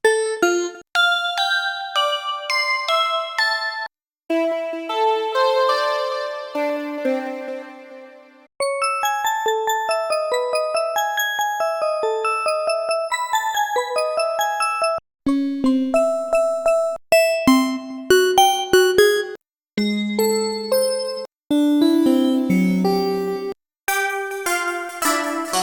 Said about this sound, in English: Then some bells, you always need them for like whatever you have going on in the background.